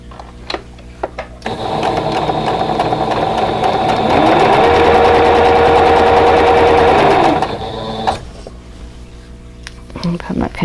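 A sewing machine runs loud and close, sewing a quilt block with right sides together along a drawn line in one continuous burst of about six seconds, its speed rising in the middle. Light handling clicks come before and after.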